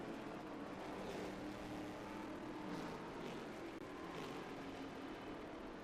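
Distant race car engine drone from a Datsun 280Z at Mid-Ohio, a steady faint roar that blends with trackside ambience and holds the whole time.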